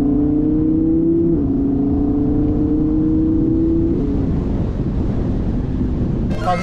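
A Lamborghini engine roars in sport mode, a loud, steady, droning tone that holds close and shifts pitch slightly, with heavy wind rush throughout.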